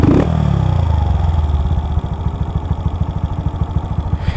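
A Honda Start 160 motorcycle with an aftermarket exhaust idles close by, a loud rev fading into an uneven, chugging putter.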